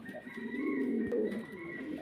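Pigeons cooing at a pigeon farm, a close, steady, low rolling coo with a soft background bird call.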